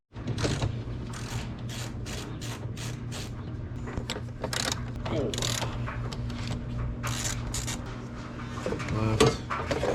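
A ratchet wrench clicks in rapid bursts loosening an engine brace on a BMW 328i N20, close metallic ratcheting repeated over and over with short pauses between strokes.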